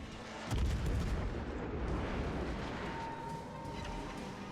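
Heavy naval guns boom in World of Warships Legends, an American warship firing in the game; a deep blast hits about half a second in, followed by a sustained rumbling roar that stays loud to the end.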